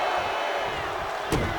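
Wrestling arena crowd at an SCW Grand Prix show, a steady loud roar of cheering and shouting filling the space, with a brief sharp slam-like burst near the end.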